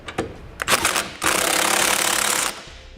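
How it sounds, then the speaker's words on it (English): Power tool driving an 11/16 socket to tighten the bolts of a Curt trailer hitch receiver on a 2017 Kia Niro: short bursts of whirring, then a sustained loud buzzing impact run of over a second that stops abruptly. "Next, I'm going to tighten my hardware using an 11/16 socket."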